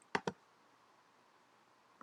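A computer mouse gives two crisp, close clicks in quick succession, then one fainter click after a short quiet pause.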